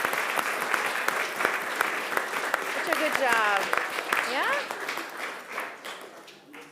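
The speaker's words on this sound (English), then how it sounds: "Can we give our Who children a round of applause?" Applause and clapping from a church congregation at a Christmas Eve Christingle service, honouring the children who played the Whos, steady and full through the clip and fading at the end, with someone speaking over it.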